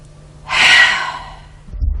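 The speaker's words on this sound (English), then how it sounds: "If you're breathing like this," A singing teacher demonstrates exaggerated, incorrect shoulder breathing: one sharp, loud, airy inhalation like a gasp, followed by a softer exhale and a low thump.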